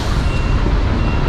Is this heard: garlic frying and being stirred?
no